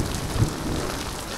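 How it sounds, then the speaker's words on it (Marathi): Heavy monsoon rain from a thunderstorm in Maharashtra pours down in a dense, loud, unbroken roar of drops hitting surfaces, close and continuous throughout. "बापरे केवढा जोरात हा पाऊस पडतोय"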